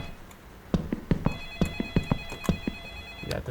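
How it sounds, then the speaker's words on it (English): A telephone rings inside the video game Light Switch, a repeated electronic ring in a steady rhythm of short bright pulses that carries on unbroken at moderate volume with no talking. "why is this phone ringing for so long?"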